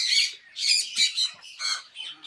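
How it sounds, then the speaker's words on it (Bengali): Loud, harsh honks from geese come in quick bursts, about six in a row, close by and with no talking. "রাজহাঁসটা বেশি ডাকাডাকি করতেছে"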